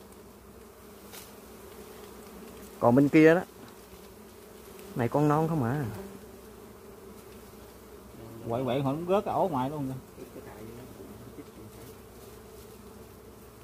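Honey bees buzz steadily around a nest being harvested outdoors, a low constant hum beneath several bursts of people talking up close.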